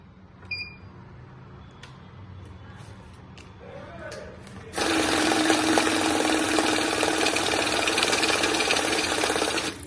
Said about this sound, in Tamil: ஏன்னா இது வந்து செமி வேல்யூ கவுண்டிங் மிஷின்